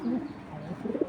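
A saddle pigeon, bred from a black saddle line, coos in a short, soft, close burst of low throaty notes.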